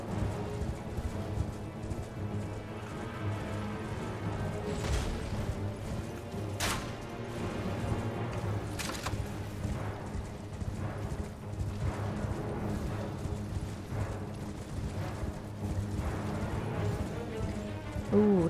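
Galloping horses in a video game cavalry battle, a dense, continuous drumming of hooves mixed with clashes and a few sharp impacts, steady and loud throughout with no talking.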